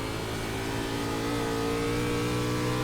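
A NASCAR Class B race car at New Hampshire in iRacing, its engine droning steadily under throttle, a continuous close mid-pitched hum holding level for a few seconds with no talk.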